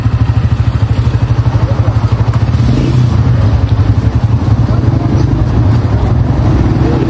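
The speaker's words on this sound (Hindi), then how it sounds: "मोटरसाइकिल ले रहा हूँ" A motorcycle engine idles and runs with a steady, loud, throbbing chug close by. The pulse thickens a bit partway through, and no words are spoken.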